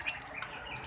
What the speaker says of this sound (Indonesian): Ini banyak pilihan burung perkutut.